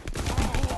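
Rapid gunfire in the mobile shooter Guns of Boom during a point-capture match, a quick burst of several close, punchy shots in under a second with no talk over it.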